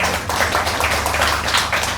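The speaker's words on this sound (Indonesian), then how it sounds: "Beri tepuk tangan buat Tuhan, haleluya." A church congregation clapping together, a dense, steady wash of many hands applauding close by, continuing without a break.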